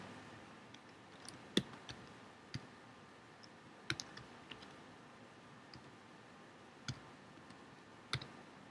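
Sparse, faint keyboard clicks while entering a university name into a Facebook profile field on a computer, isolated taps spread irregularly over a quiet background with no talking.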